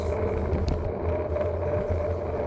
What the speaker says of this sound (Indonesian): arus lalu lintas terutama pengendara motor ini kenceng-kencengan